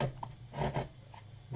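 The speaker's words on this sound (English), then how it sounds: "It's a number 5, and it's a wider chisel because it'll make a nice smooth cuts." A wide number 5 chisel carves a wooden rosette by hand, giving a few soft, close, rasping scrapes in short strokes at low volume.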